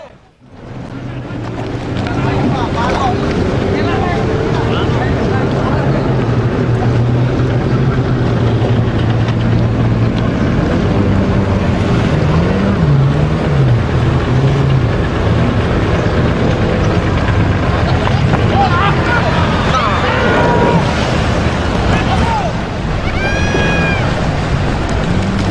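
A jet ski runs on the Musi River in Palembang, with a loud, steady engine drone and wind buffeting that last throughout and shift in pitch now and then.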